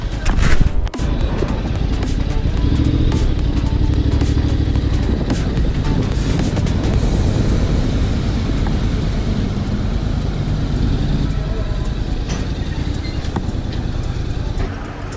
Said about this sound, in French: on est du coup sur le ferry en direction donc de la Grèce